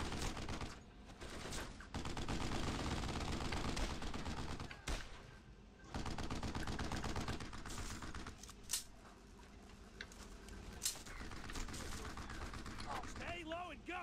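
Sustained WWII gunfire in Brothers in Arms: Road to Hill 30 on the original Xbox, rapid rifle and machine-gun fire rattling continuously at close range, with soldiers shouting over the din.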